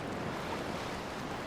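Salt water sloshing and surging around a swimming character in Horizon Forbidden West, a brief continuous wash of wave and surf noise with no speech.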